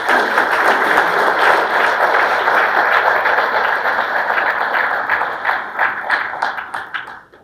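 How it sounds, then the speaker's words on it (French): An audience applauds together: sustained dense clapping holds steady for several seconds, then thins into scattered individual claps and fades out. "Et donc ensemble, nous pouvons l'applaudir."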